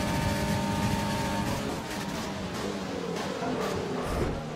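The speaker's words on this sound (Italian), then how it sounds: "Vai, fagli sentire il motore qua." Race car engine in the F1 2020 video game at the Brazil circuit, a continuous loud revving drone with shifting pitch across the clip, no talk over it.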